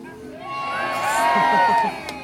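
Crowd at the Ford Fair stunt show cheering and whooping, swelling in volume to a loud peak and then easing off, with shouts rising above the roar.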